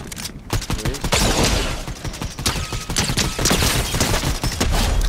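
Rapid gunfire in the battle royale video game Fortnite, dense overlapping shots and bursts crackling loudly and continuously with no talking.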